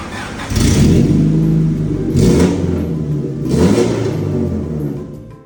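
A car engine fitted with a new muffler turns over and settles into a deep, low idle, with a couple of revs rising and falling close by.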